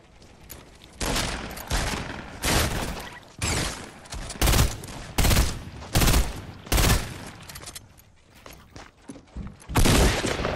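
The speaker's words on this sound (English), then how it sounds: "There's other people shooting at me right now" Gunfire from other players in Fortnite: loud bursts of rapid shots in repeated volleys, each a second or so long, close and sharp, separated by brief gaps, with no talking.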